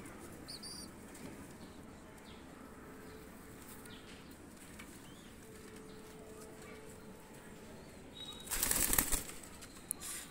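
Two young Pakistani pigeons are released, and their wings beat in a loud, close burst of flapping near the end, after a long stretch of quiet outdoor background.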